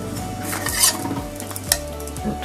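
Bread toasting in a pan after being flipped, with a steady sizzle and repeated scraping and clinking of a utensil against the pan.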